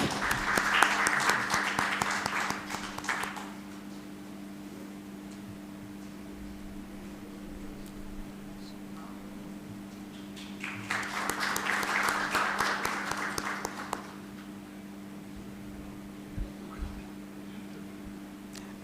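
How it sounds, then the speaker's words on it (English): Audience applause at a seminar, two separate bursts of clapping from a room of people, each lasting a few seconds with a quiet gap of room hum between them. "with a huge round of applause."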